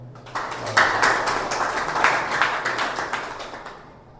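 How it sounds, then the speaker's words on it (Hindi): A church congregation at a Sunday evening prayer service claps in welcome, a dense, fairly close burst of many hands that swells quickly, holds steady, and slowly fades toward the end. "आप सभी के लिए जोरदार तालियां हैं।"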